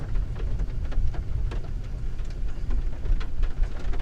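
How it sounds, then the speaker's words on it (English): Rain falls steadily during a thunderstorm, a dense hiss with low rumbling thunder underneath, fairly loud and continuous with no voices. "You can definitely hear thunder."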